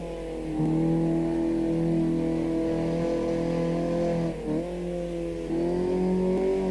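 A Ginetta G40 race car in Automobilista 2 holds a steady, loud engine drone, dipping once in a quick lift-and-rev before climbing back, heard from outside the car with no talk.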